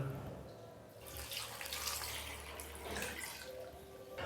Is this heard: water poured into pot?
yes